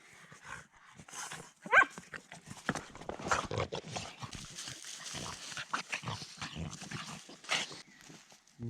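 Dogs bark in short, uneven bursts at a tent camp in the forest on the Neman river, fairly close and of moderate loudness, with other scuffling noises between the barks.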